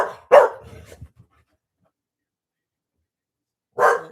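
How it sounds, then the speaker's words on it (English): A dog gives one short bark up close, then a long silence before a second sharp bark. "That's my dog, Chico."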